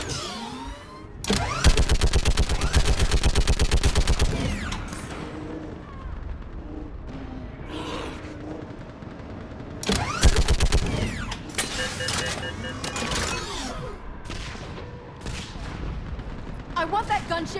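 Battle gunfire and explosions in Mass Effect 3: two dense bursts of rapid automatic fire with booming impacts, separated by lulls of scattered shots, mechanical clanks and distant blasts, loud and close, with voices calling out amid the fighting.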